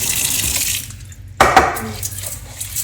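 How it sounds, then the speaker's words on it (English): Running tap water hisses steadily, then a sharp clank of a pot is followed by water splashing and gurgling into it nearby as it fills over rice in a kitchen. "So first I'm gonna just put some water in here."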